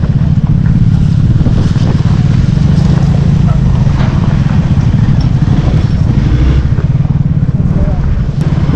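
A heavy motorcycle's engine roars loudly and continuously while the stuck bike is freed on a rough off-road trail near Maldevta, Dehradun, with voices shouting over the engine noise.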